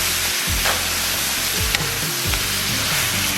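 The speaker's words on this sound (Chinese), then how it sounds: "然后给里边把牛肉给下里边， 然后给它反复煸炒一下" Beef sizzles in a hot wok as it is stir-fried with soy sauce, a loud continuous frying hiss broken by the repeated scrape and clatter of a spatula tossing the meat.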